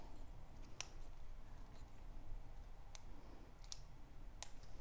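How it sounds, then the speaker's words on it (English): Scissors snipping the excess off a paper flower stem for a card, a handful of faint, sharp clicks spaced apart over a soft steady background hiss. "We're going to cut the stem. Just get rid of the excess."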